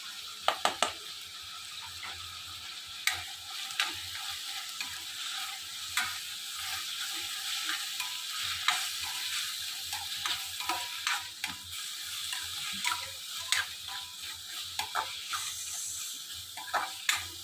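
Spice masala roasting in a hot pan for Kolhapuri misal, a steady close sizzle with scattered scraping stirs and clicks throughout, no voices.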